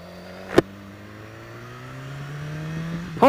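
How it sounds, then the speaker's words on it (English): A 2015 BMW S1000XR motorcycle engine idles close by with a steady hum, gives a sharp blip early on, then climbs into a louder rev at the end. "This is the S1000R engine to a T."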